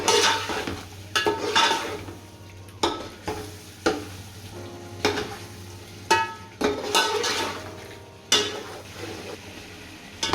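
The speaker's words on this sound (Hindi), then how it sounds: "इसके मसाले की अच्छी तरह से बुनाई हो रही है" Masala for chicken biryani is stirred and fried in a pot, giving repeated scraping strokes of a spoon against the metal every second or so over a steady sizzle, close and moderately loud, with no talking.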